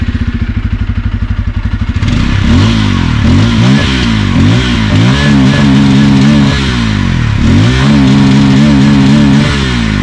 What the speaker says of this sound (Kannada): ಈ ಗಾಡಿ ಎಕ್ಸಾಸ್ಟ್ ನೋಡೋಣ ಬನ್ನಿ ಒಂದ್ಸರಿ